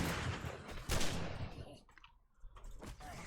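Rapid AK rifle gunfire in the survival video game 7 Days to Die, a loud dense burst of shots at the start, then sparser scattered cracks and clatter fading toward the end.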